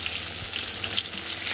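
Whole pointed gourds fry in hot oil, giving a brief, dense and even sizzling hiss close to the pan with a few small crackles and no talk.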